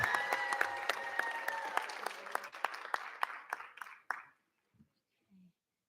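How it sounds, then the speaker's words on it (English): Applause at a school board meeting honoring a student, a dense roomful of clapping with a sung or cheering voice over the first seconds, thinning to scattered claps before stopping abruptly near the end. "Another round of applause for Love."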